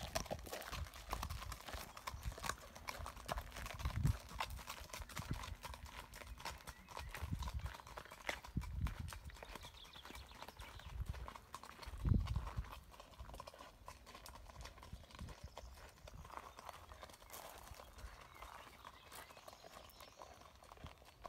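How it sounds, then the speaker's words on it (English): Horse hooves clip-clop at a steady walking pace, fairly close, with a few heavier thuds standing out against light outdoor background noise. "See how the horse goes."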